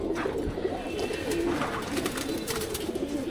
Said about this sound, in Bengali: কিছু মাদি কবুতরের কালেকশন দেখে চলেন